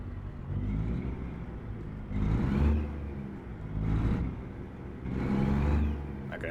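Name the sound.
Kenworth truck engine driving in American Truck Simulator video game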